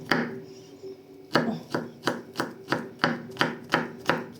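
Garlic being crushed for young potatoes, heard as a run of about ten sharp, evenly spaced knocks on a board, close and crisp with nothing else over them.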